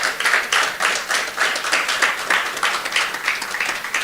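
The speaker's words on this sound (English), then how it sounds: "Please, a round of applause for him" An audience at a governors' forum event claps in a fairly regular, rhythmic beat for a governor, the sharp slaps pulsing steadily and close, with no talk over them.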